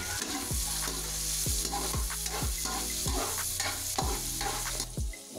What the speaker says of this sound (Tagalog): Lagyan na rin ang bawang. Kapit ang hanghang, lagyan na natin ang konting sili.